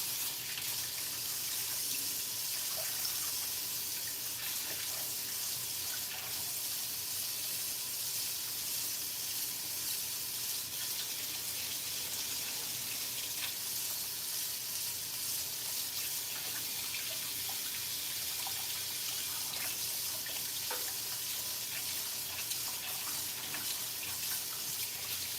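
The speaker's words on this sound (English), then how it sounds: "I'm gonna run it under hot water again" Hot water runs steadily from a tap in a continuous, even hiss of flowing water, a little distant and unbroken, while a cake is being decorated.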